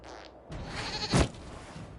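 A goat bleats once in a video game, a short, loud bleat rising over a dense bed of game ambience and effects.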